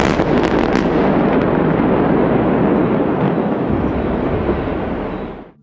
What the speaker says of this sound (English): With a loud explosion, the landmark was cleared